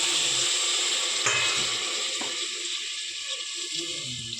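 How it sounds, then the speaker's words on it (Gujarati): Water poured into a pan of stuffed brinjal curry, heard as a steady, close hissing sizzle with faint metallic clinks and no talking. "પછી છે ને આપણે થોડુંક પાણી એડ કરી દઈશું"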